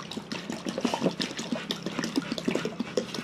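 Water being poured for a dog outdoors, a continuous splashing and trickling stream of irregular droplets and gurgles at moderate, close range, with no talking.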